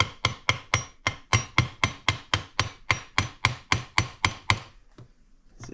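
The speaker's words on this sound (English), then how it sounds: "Get a hammer to tap on it." Sharp metallic hammer taps strike a housing on a 1940 Mercury with a no-spark fault in a steady rhythm, about fifteen blows close by, then a couple of fainter taps before it falls quiet.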